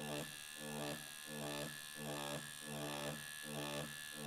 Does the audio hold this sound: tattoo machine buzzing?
yes